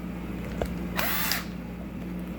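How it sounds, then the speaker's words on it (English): A brief burst of a power drill fitted with a sanding drum spinning up and whining for about half a second over a steady low hum, close by. "let's see if I can grab my sander on this drill"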